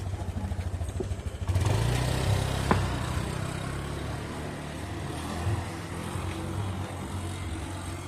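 A Honda Scoopy scooter, repaired after a crash, starts off on a test ride: its small engine hums steadily and fairly loud, with road and wind noise over eight seconds and no talking.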